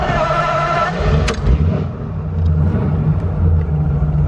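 A restored 1941 Ford Super Deluxe Coupe engine rumbles steadily, fairly close, with a low throbbing idle and a brief rev partway through.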